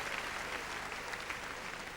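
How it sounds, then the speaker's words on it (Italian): Spectators at a show jumping arena applaud as a rider leaves the ring, a steady, distant wash of clapping filling the air without pause. "Applausi per la Mazzone che esce dal campo"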